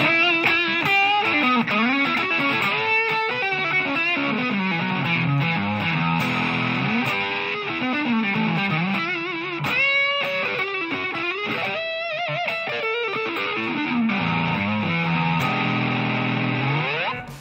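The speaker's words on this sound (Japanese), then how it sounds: "結構濃密な歪みが出ています。" An electric guitar played through a distortion pedal into a cheap home practice amp rings out with dense, thick overdrive, with chords and single-note runs sustaining continuously across the phrase and no talking.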